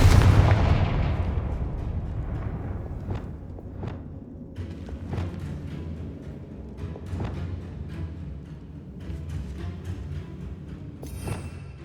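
A Confringo fire-blast spell detonates loudly in Hogwarts Legacy, a heavy boom up front that rumbles down, followed by scattered lighter thumps and cracks of ongoing combat and a sharp hit near the end.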